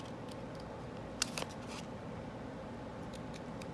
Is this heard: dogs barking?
no